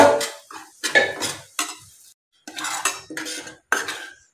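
Semolina is stirred and roasted in melted ghee in a pan for moong dal halwa, a metal spoon scraping and clinking against the pan in short, irregular bursts separated by brief pauses.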